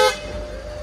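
A single short toot from a newly fitted horn on a Mahindra Scorpio Classic at the start, fading quickly into a low vehicle hum.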